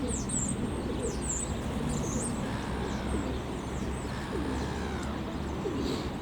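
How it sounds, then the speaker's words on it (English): Small wrens chirping faintly in repeated short high calls over a steady outdoor background, heard at a distance with no talking. "Some little wrens down here."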